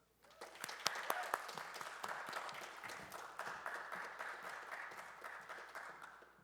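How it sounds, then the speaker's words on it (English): Audience applause for sponsors and judges at the 2023 IVC finale: a steady, fairly soft wash of many hands clapping that builds quickly and holds for several seconds with scattered sharper claps. "Can I get one more round of applause for both our sponsors and our judges?"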